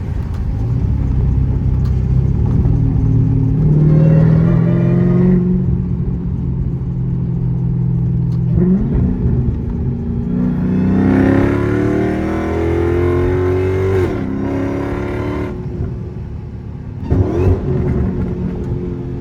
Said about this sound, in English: Your music is your supercharger. It really is, and your exhaust.